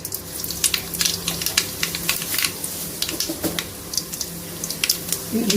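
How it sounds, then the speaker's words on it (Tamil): Mustard seeds spluttering in hot oil while making a pumpkin masala fry, giving a steady crackle of dense popping and sizzling close by. "சூடாகிடுச்சுங்க, கடுகு போட்டுக்கலாம்."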